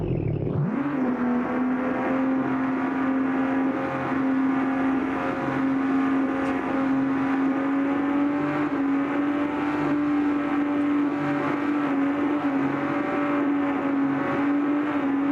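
A rebuilt 1100-horsepower Cummins diesel truck engine holds a loud, steady high-rev drone with a strong sustained tone, close and continuous without a break.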